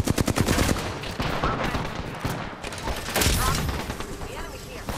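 Rapid gunfire from the Apex Legends video game, a dense loud volley of repeated shots with bursts through the whole stretch, mixed with other game effects.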